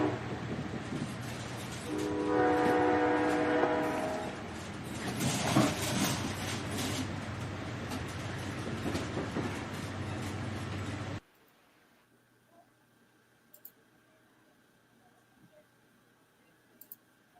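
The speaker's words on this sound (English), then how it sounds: "let's get the train going." Train running, a loud rumbling roll with clattering wheels and a sustained horn blast early on, then the noise cuts off abruptly to near silence with a few faint clicks.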